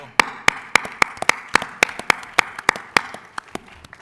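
A few panelists clap at a naval warfighting conference panel, giving sparse, uneven, crisp handclaps at close range, roughly five per second, with no voices over them.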